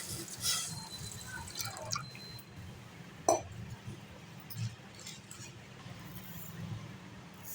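Water trickles and drips steadily into a bowl, a soft liquid pour for sugar syrup with a low background hum and one brief clink.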